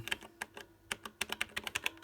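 Plastic buttons on an Elektron Digitakt drum machine, after a DIY fix of sticky buttons with a TPE rubber coating, are pressed in quick succession, giving a string of close, dry clicks in an uneven rhythm.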